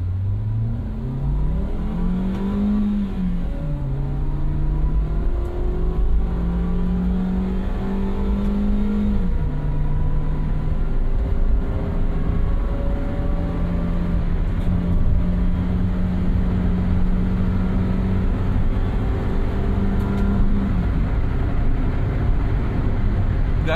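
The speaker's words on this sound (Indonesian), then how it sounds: "Kita tes akselerasinya. Ini transmisinya bisa kita setting ke manual dulu. Kita ke L, low, itu berarti kita masuk ke gigi 1" A car with its transmission set to low, first gear, accelerating hard; the engine note climbs steadily with repeated rises and drops as it revs, loud and continuous inside the cabin for over twenty seconds.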